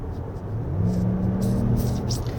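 A 2024 Lexus RX500h F Sport Performance in normal drive mode gives off a synthetic engine tone that rises steadily over a low cabin rumble and road noise during acceleration. No one speaks.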